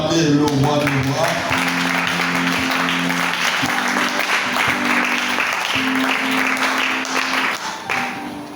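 Sustained applause and cheering from a church congregation during a Sunday worship service, a dense, loud wash of clapping and voices running throughout, with sustained musical tones underneath.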